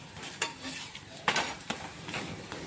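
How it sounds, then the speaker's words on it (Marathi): Pumpkin paratha roasts in oil on a hot pan with a faint, steady sizzle, punctuated by a few sharp spatula scrapes and taps against the pan. "असं तेल लावून छान असं खरपूस भाजायचं आहे दोन्ही साईडनं"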